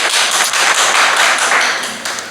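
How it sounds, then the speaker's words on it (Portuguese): A church congregation applauds loudly, a dense wash of many hands clapping steadily and close, fading slightly toward the end. "vamos aplaudir o Senhor Jesus bem forte"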